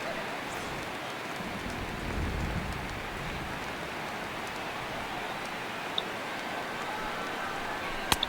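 Steady rain falling in the MLB 18 The Show baseball video game, a constant, even wash of rain noise throughout with a few faint clicks, no talking.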